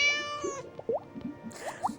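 A cat meows in short high mewing calls, several quick meows overlapping with faint background sounds in a garden scene.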